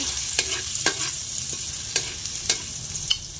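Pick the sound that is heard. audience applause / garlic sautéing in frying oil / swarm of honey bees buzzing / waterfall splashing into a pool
garlic sautéing in frying oil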